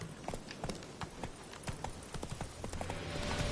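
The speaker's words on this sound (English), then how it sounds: "Whoa there, Roach." Hooves of Roach, the horse in The Witcher 3, clip-clopping on hard ground in a steady walking rhythm, close and clear against a background murmur.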